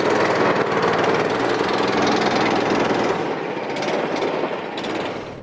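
Go-kart engine accelerating on an outdoor track, a loud, buzzing small-engine drone close by that stays steady, then eases slightly toward the end.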